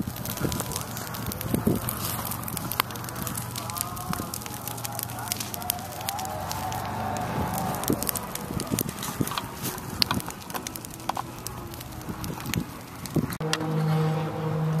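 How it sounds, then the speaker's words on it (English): A spring bonfire burns outdoors with steady crackling and popping, including frequent sharp snaps against a low roar. The fire carries on throughout at a moderate level, with a brief tonal hum near the end. "Baby's first bonfire."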